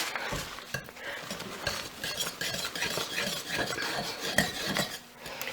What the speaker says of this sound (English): you want to get that really mixed in really well. Use your spatula and your whisk.